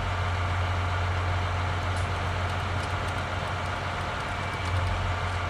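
A John Deere tractor engine in the Farming Simulator 19 game runs at a steady, low, rumbling idle throughout, with a constant drone and no voices.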